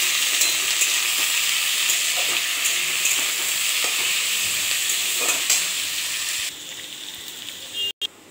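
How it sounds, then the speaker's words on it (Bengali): Ivy gourd with salt and turmeric fries in a pan, giving a steady loud sizzle with occasional stirring scrapes before it drops off toward the end. "দিয়ে এবার ভাজব।"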